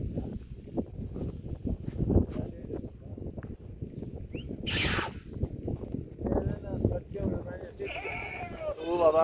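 A shepherds' flock of sheep moves along a difficult mountain trail; scattered bleats rise near the end over footsteps, shuffling and people talking nearby.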